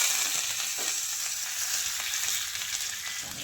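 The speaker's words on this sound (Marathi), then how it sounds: "तेल गरम झालेलं आहे त्यामध्ये मी मोहरी घालते आहे आणि थोडा जिरा घालते आहे" Mustard seeds and cumin tempering in hot oil give a dense, continuous, close sizzle with a hiss that holds steady and loud for the whole moment, with faint pops scattered through it.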